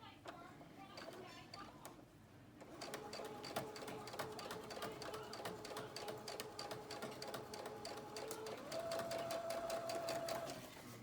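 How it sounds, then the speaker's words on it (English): Sewing machine stitching along pleated fabric, sewn in the direction of the pleats: after a quiet start, a loud steady motor whir with rapid needle clatter runs continuously, its hum pitch shifting near the end. "I like to sew mine so that I'm always sewing with the pleat"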